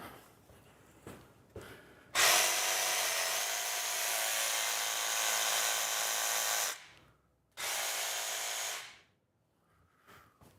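A jigsaw cuts out a camper van wall panel in two loud, steady whining bursts, a long one and then a shorter one after a brief pause, with quiet handling noise before and after.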